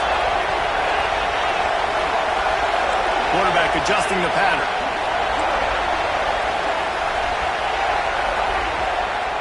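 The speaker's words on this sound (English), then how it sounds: "this crowd is bringing down the house" A stadium crowd roars steadily at an American college football game, a loud, dense wall of cheering that holds throughout while a commentator talks over it.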